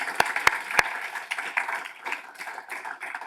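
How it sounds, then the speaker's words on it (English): A few loud, sharp claps ring out close by, followed by a thinner spread of audience applause at a college teaching awards ceremony. The clapping fades into scattered claps. "Yes, let's clap for them."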